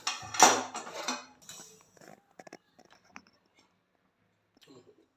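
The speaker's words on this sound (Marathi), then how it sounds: "मी ते खाली एका ताटलीत काढून घेते" Roasted sesame seeds scraped and tipped from a kadhai onto a plate, a rustling pour with metallic scrapes, followed by sparse soft taps and clinks, close and quiet with faint speech.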